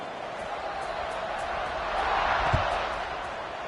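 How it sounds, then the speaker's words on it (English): College football stadium crowd buzzing during a Georgia Tech game, a broad, steady roar of many distant voices that swells slightly toward the end, with a single thump near the close. "this crowd is buzzing after that last score"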